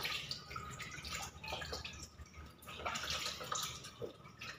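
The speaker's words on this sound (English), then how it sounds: "pour water" Water is poured and splashed over a baby in a bathtub, a soft, continuous trickle with faint drips and splashes throughout.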